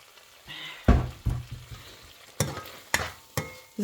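Food being sautéed in a pan, with repeated stirring scrapes and clatters over a low, steady sizzle. Several sharp utensil knocks punctuate the cooking noise, and no one speaks.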